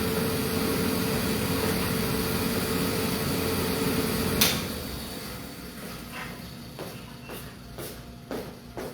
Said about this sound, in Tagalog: Maingay yung aking aircon.